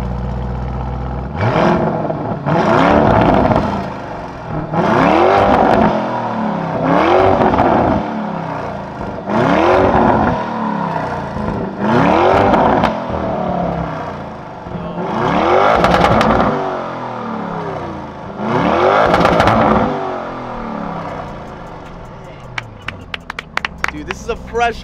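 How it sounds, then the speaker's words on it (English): A Lamborghini Urus SUV revs hard about six times in a row. Each loud, close blip of the engine rises and falls away, with brief gaps of idle between them. "Sam, is it cool if we hear some revs of the Urus?"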